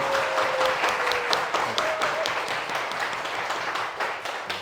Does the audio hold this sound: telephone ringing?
no